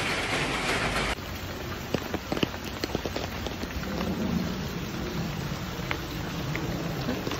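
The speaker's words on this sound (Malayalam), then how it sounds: "നല്ല മഴ അവിടെ." Heavy rain falls steadily and fairly close, a dense, even wash of drops with scattered sharper patters on surfaces and no speech.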